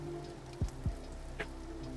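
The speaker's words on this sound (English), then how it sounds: "on this rainy day" Rain falls steadily outdoors on a rainy day in Portland, Maine, a soft even patter with a few nearby drops landing louder.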